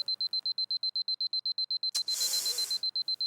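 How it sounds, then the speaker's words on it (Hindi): An alarm clock rings in a steady, fast pulsing beep, loud and close, repeating evenly for several seconds before a brief burst of broadband rustling noise interrupts it. "अलार्म बंद कर।"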